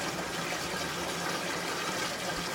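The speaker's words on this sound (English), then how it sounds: "It also has a venturi, which is that bubbling sound which oxygenates the solution." A venturi in a home hydroponics tank bubbles continuously as it oxygenates the nutrient solution, giving a dense, even, faint rush of churning water with no pauses or voices.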